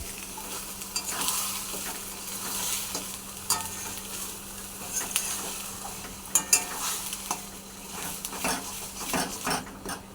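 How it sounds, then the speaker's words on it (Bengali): Colocasia leaf paste is stirred in a frying pan over a soft, steady sizzle, with repeated scrapes and clinks of a utensil against the pan. The scrapes come in irregular bursts that grow busier toward the end. "আর একটু নাড়াচাড়া করে নিয়ে দিয়ে দেব মুগ ডাল ভাজা।"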